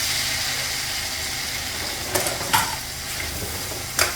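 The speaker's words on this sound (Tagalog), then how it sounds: "Gisahin na po natin na rin ating burong nabili. Lalagyan po natin ng bawang sibuyas." Fermented rice (buro) with garlic and onion sautés in a pan, giving a continuous sizzle with a few sharp scraping clinks of stirring, close up.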